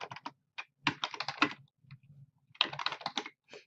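Quick bursts of keystrokes on a computer keyboard, close and fairly quiet, clustered in short runs separated by brief pauses, with no talking.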